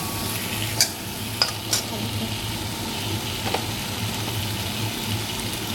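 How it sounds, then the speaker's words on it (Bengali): Potato pieces fry with salt and turmeric in a pan, giving a continuous close sizzle broken by a few light metallic clicks of stirring. "লবণ হলুদ দিয়ে ভালো করে ভাজছি"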